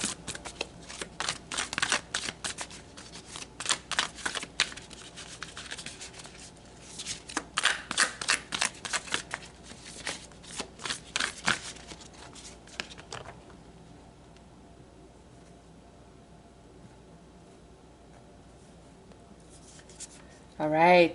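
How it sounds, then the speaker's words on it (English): Tarot cards are shuffled by hand in repeated riffling bursts of soft, rapid flutter and snapping, separated by short pauses, then the shuffling stops and the room goes quiet. "So let's pull some tarot."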